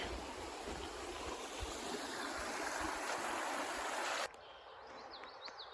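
Stream water flowing under a bridge beside the Appalachian Trail, a steady rushing wash that cuts off abruptly near the end, leaving faint quieter ambience with a few light chirps.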